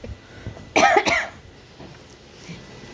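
A single close cough with a rough, throaty edge, followed by quiet room noise.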